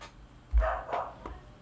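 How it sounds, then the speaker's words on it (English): Dogs in the video game XCOM 2 bark faintly in the distance, two or three short muffled barks in quick succession against quiet background. "Why are the dogs barking?"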